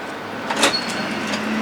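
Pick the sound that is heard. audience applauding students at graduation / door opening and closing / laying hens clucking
door opening and closing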